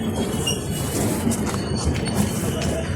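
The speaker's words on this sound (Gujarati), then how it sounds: "ફાઇનલી ઊભી રહી ગઈ છે ટ્રેન" A long-distance train pulls into a station, its wagons rumbling and wheels faintly squealing in a steady, close wash of rail noise, with crowd murmur and a voice in the background.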